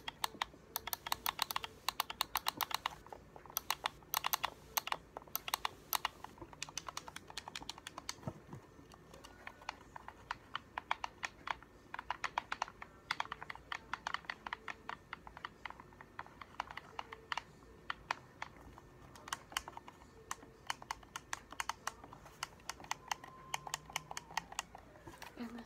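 Game controller buttons and sticks are pressed in dense, quiet bursts of plastic clicks and taps close to the mic, with scattered soft handling noise throughout.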